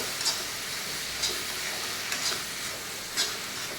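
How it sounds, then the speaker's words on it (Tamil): Tomatoes sauté in a covered pan with a soft, even sizzle, and a few faint spatters and ticks surface at intervals. "தக்காளி நல்லா அப்படி மூடி போட்டுட்டு இன்னும் கொஞ்சம் வதக்கிட்டு"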